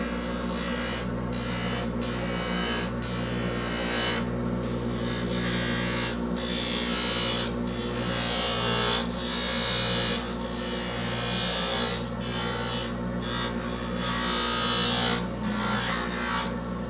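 Dental trimming tool bulk trimming a retainer with suction devices running, a steady loud whirring grind with faint scraping and brief dips, continuous and close, no talking.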